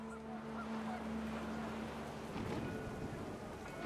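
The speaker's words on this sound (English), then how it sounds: "The wind picked up, and panicked geese appeared and quickly went." Panicked geese honk in the video game What Remains of Edith Finch as wind picks up, several faint honks over a steady windy wash with a low hum beneath.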